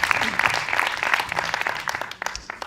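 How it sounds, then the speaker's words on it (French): Audience applause at the opening session of a French multi-screen media conference, a dense burst of many hands clapping that gradually thins out, with some voices mixed in toward the end. "Merci beaucoup, on peut t'applaudir"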